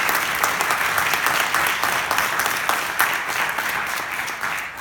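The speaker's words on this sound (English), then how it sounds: "We have to give a big round of applause to Attorney Candy Lamb" A room full of people at a press conference about racism at a Naperville Buffalo Wild Wings gives a big, loud round of applause for Attorney Candy Lamb, dense and continuous throughout.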